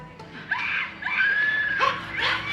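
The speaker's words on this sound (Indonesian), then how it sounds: "Ada yang teriak." A person screams in several drawn-out, wavering high wails, rising and falling in bursts across the clip, fairly close and loud.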